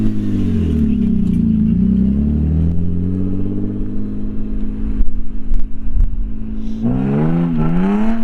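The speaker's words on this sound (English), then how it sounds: "Rev it up. Rev it up." A loud supercharged Cadillac CTS-V V8 rumbles close by through its exhaust, holding a heavy, wavering rev, then dropping into choppy burbles before climbing into a fresh rising rev.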